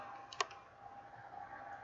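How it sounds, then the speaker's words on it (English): A single sharp key click from a computer keyboard as the N key is tapped with one finger, close and brief, followed by quiet room tone. "I'm gonna type the N key."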